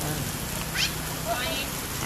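Steady rain pattering on a surface, a continuous close hiss with faint background noise, no clear talking.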